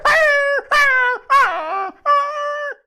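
A voice imitates street dogs howling and whining in four loud, separate cries with short gaps, each held briefly then dropping off, the third one wavering downward, with no talk between.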